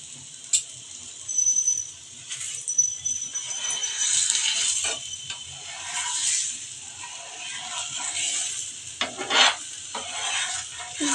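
A cauliflower paratha cooks on a hot pan as ghee is added. Soft sizzling and scraping rise and fall close by, with intermittent sharper crackles, and the sound stays fairly quiet overall.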